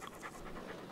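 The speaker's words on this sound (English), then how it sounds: "He's a good little puppy." A puppy pants fast and steadily, soft breathy huffs close by and fairly quiet, with no voices over it.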